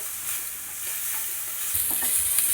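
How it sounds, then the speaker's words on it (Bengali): Salted chicken frying in a pan gives a steady, close hiss of sizzling oil with faint stirring scrapes throughout the short stretch, and no one speaks. "লবণ দিয়ে আমি চিকেনটাকে ফ্রাই করব"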